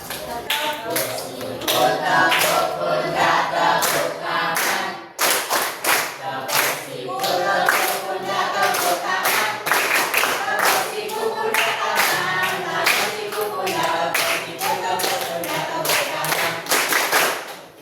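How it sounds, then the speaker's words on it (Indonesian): A classroom group of teachers claps together in a steady rhythmic cheer pattern, a close and loud run of sharp hand claps with brief pauses between sets, while a voice talks over the clapping. "kita tepuk-tepuk dulu ya. Bukan tepuk sakinah ya, tapi tepuk semangat"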